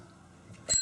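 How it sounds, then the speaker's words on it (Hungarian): A bell rings once near the end, a short bright ding on an old contraption holding a cigarette, a brandy bottle and other odds and ends, after a quiet low hum. "akkor egy csengő"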